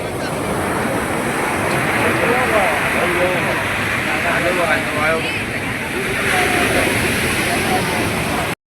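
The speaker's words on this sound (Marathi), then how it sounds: "अशा प्रकारे लाटा सुद्धा जोरात येतात" Strong sea waves surge and crash onto the shore at Kunkeshwar during the temple fair, a continuous loud roaring wash with a voice speaking over it.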